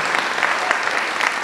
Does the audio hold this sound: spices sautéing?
no